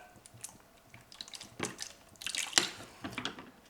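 Water is poured over Chinese teaware in a first rinse, giving soft, uneven splashes, trickles and drips that come close by and fairly quiet, with no talking.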